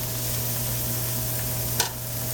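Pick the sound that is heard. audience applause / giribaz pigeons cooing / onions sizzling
onions sizzling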